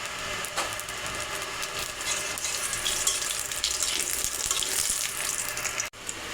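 Bay leaf and panch phoron spices sizzle steadily in hot oil for a Bengali bottle gourd and hilsa curry, a close, even crackling hiss with no talk, cut by a brief dip near the end.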